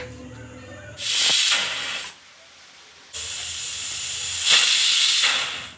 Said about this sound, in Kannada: ಕುಕ್ಕರು ಬಿಟ್ಟಿದೆ